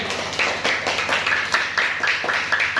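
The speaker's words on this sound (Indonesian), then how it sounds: "tepuk tangan buat kelompok 3." Classroom clapping for a student group, with a steady run of sharp, fairly close handclaps repeating evenly across the whole stretch and no talk over it.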